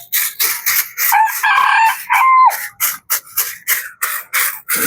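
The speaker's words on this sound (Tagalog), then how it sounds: "Yan po ang ating mga alagang manok na bantam." Pet bantam chickens crow with drawn-out calls and cluck in short, repeated bursts close by. There is no talking.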